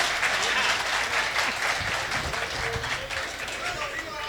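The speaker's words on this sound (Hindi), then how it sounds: "एक बार अपने लिए भी जोरदार तालियां बजाइएगा" A crowd at a Hindi poetry stage show claps vigorously and continuously, a full, even applause with voices mixed in underneath.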